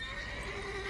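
A mare whinnies in The Witcher 3: Wild Hunt, a short, loud, close neigh that fills the whole second over a steady game backdrop.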